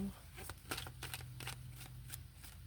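A tarot deck is shuffled by hand during a reading, giving quiet, close papery riffles and soft card slaps in a loose, irregular rhythm that lasts a few seconds.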